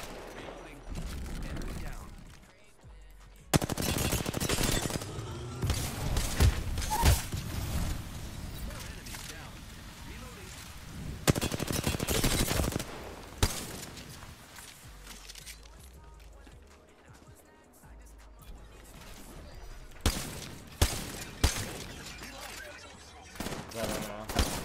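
Bursts of automatic gunfire in Apex Legends on the Kings Canyon map, loud and repeated across the stretch with quieter gaps, mixed with game effects and a player talking over the action.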